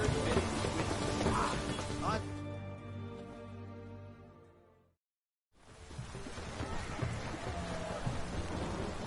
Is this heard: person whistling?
no